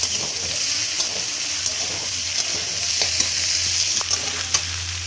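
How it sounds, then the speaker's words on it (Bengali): Potatoes frying in a pan on a home stove, a steady close sizzle with occasional stirring scrapes throughout, no voices. "আলু ভাজছি"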